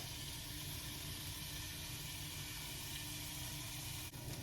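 Oil sizzling in a hot pan before beef is seared, a steady dense hiss that stays constant and close for a few seconds without talk.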